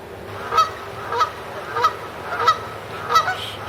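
Geese honk repeatedly in a steady rhythm, about five loud calls spaced evenly, fairly close with no other sounds around them.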